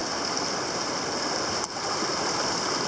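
Water from a mountain stream rushes steadily close by as a hiker fords it, a constant broadband wash with one brief dip in the flow.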